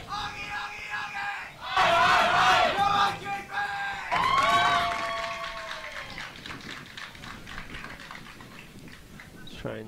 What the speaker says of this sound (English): And the cheering.